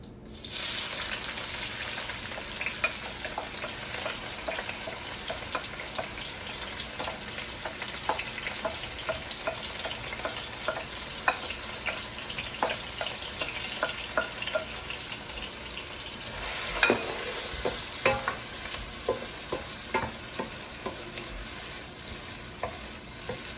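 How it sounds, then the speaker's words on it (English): Onions and vegetables sizzle and crackle in a hot pan, with occasional stirring scrapes and clinks over a steady frying hiss. "just gonna start frying up my veggies, so it's gonna get a little loud in here"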